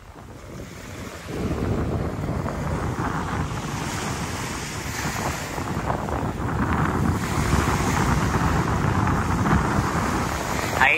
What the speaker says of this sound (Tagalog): Napakaganda nga pagmasdan yung alon dito.